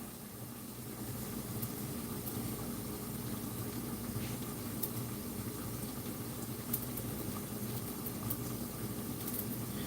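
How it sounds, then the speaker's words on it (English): Steady, dense sizzling and crackling of steak pieces frying in a hot pan, continuous throughout with no talking. "I'm actually frying a little bit of steak pieces here."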